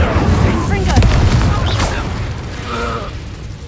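Spell blasts and booming explosions from combat in Hogwarts Legacy, a fire spell followed by the Confringo blast, rumbling loudly with layered impacts under in-game speech.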